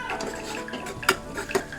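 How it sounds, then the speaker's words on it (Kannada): Onion masala fries in oil in a pan for a chickpea curry, a soft steady sizzle under close spoon scraping and two sharper metallic clinks against the pan. "ಅದು ಎಣ್ಣೆ ಬಿಡೋ ಗಂಟಲು ಫ್ರೈ ಮಾಡಿ."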